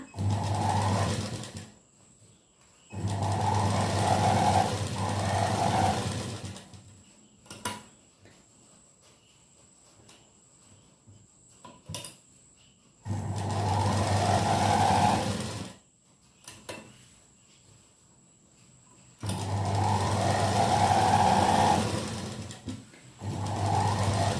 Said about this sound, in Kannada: ಇವಾಗ ನಾನು ಈ ಬದಿ ಸ್ಟಿಚ್ಚನ್ನು ಮಾಡಬೇಕು ಸೇಮ್ ಅಲ್ಲೇ ಕಂಟಿನ್ಯೂ ಮಾಡಿಕೊಳ್ಳಿ ಸ್ಟಿಚ್ಚನ್ನು